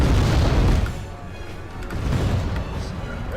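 Artillery fire and explosions in the game Wargame AirLand Battle, deep rumbling booms rolling in waves, loud at the start and swelling again later, with someone talking over them.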